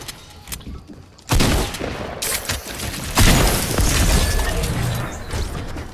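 Charged shotgun blasts in Fortnite, two heavy bursts a couple of seconds apart followed by ongoing loud gunfire and crashing effects, with no talking.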